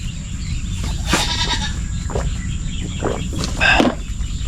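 Goats bleating on a farm among other livestock, a few short nasal bleats scattered across a steady outdoor background, the loudest call near the end.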